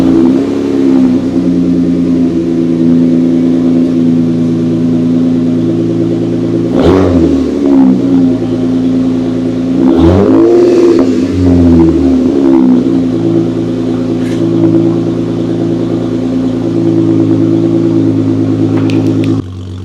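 A Jeep's deep, throaty exhaust idles loudly and steadily, with a couple of brief revs swelling and falling back.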